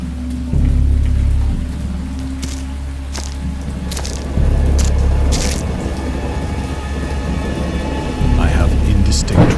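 Thunder and heavy rain in a stormy scene from the Dagon video game, based on H.P. Lovecraft: steady loud rainfall with deep rumbling thunder swells and sharp cracks recurring throughout, no voices.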